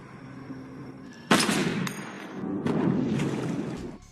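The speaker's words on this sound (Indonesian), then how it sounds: "Miguel pun menembak anaknya" Gunfire in a film scene: a sudden loud blast with a sharp ringing tail, followed by a second burst of shots, heard over a quiet background hum.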